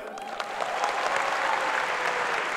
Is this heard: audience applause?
yes